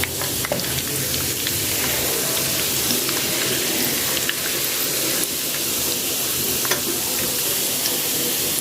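Whole masoor dal frying over medium heat in a pan, a steady dense sizzle and crackle throughout, with occasional stirring scrapes and no talk.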